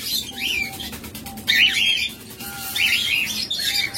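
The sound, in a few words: lovebirds chirping and squawking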